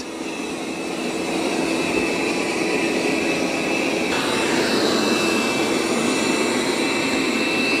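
Dreame X40 Ultra robot vacuum cleaning on carpet near a cable, a steady loud whirring suction drone with a thin high whine, running continuously and close by.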